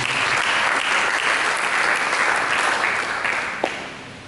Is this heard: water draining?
no